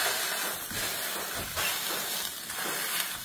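Fish frying on a tin roof heated by the sun, with a steady, soft, continuous sizzling hiss and no voices.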